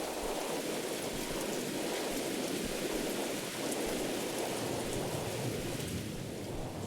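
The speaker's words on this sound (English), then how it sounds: "Looks like the storm is picking up." A thunderstorm in the video game Mothered brings steady, dense rain hissing on surfaces with a low rumble of thunder beneath, continuous and enveloping with no voices.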